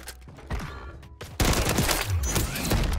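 Gunfire rattles through a shooting video game: scattered nearby shots build into a loud, continuous burst of rapid fire that runs to the end.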